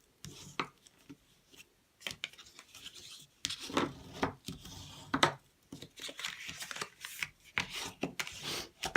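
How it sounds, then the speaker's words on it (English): Paper card panels being folded and burnished by hand, giving close, quiet rubbing and scraping strokes in irregular bursts with brief pauses between them. "I'm going to fold and burnish my edges."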